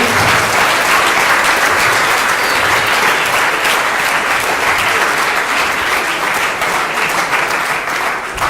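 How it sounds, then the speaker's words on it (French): A loud, sustained round of applause fills a hall as the audience at the Ludix 2017 speech thanks the organisers and everyone who worked on the event, dense clapping that stays steady throughout without letting up. "on va applaudir tous ceux qui ont travaillé"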